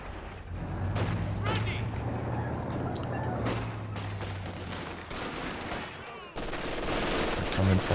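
Dense bursts of rifle and automatic gunfire with a thudding mortar or grenade blast crackle through a competitive video game match, loud and continuous, with a commentator talking over the action.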